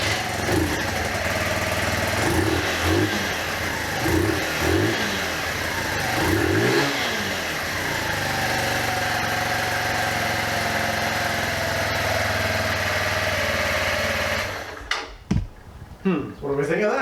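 A pair of 125cc supermoto motorcycles start up, with a few revving bursts at first, then settle into a steady, fairly quiet idle that cuts off near the end.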